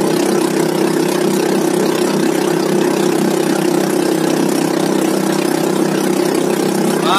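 Small katinting outboard engines on wooden boats racing on a river, a 7.5 hp motor against a 20 hp one, giving a steady loud droning roar with no pauses and no talk.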